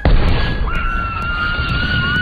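A cannon fires in an animated film, a loud booming blast at the start followed by a sustained low rumble and ringing tones.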